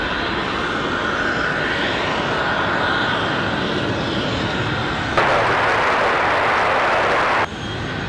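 A fixed-wing airplane roars at Raleigh Durham International Airport, a loud sustained engine rumble that swells suddenly brighter and harsher for a couple of seconds as it passes close, then drops back.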